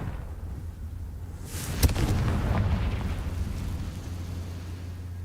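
A Confringo blasting spell goes off in Hogwarts Legacy as a sudden sharp burst, then a rumbling roar that swells and slowly fades over several seconds, loud and close with no voices.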